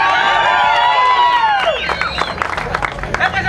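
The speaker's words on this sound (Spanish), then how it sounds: "Ahora el aplauso para Yasmín." Spectators at a Tijuana truck show erupt in loud cheers and whistles, then the shouting thins as scattered clapping and crowd noise continue.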